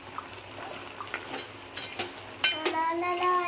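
Ground masala paste going into a pot of crab curry, with light stirring and scraping sounds and a few soft clinks, near and fairly quiet, followed by a voice at the end.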